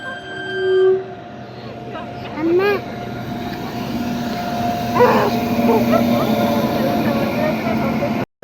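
A train pulls into Datiwali station on a rainy day, a low steady rumble with horn-like tones building across the scene, while voices talk over it nearby.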